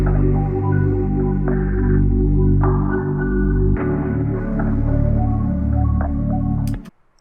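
A processed percussion loop plays alongside a melodic sample in FL Studio for a vintage-style beat, with a loud layered groove of deep bass tones and rhythmic hits that shifts partway through and stops abruptly near the end.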